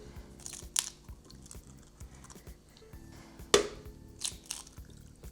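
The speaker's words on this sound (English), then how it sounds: "I'm going to crack open 4 large eggs into that blender." Four large eggs are cracked into a blender container, giving a few sharp, crisp taps and cracks at close range that are spaced apart over quiet background hum.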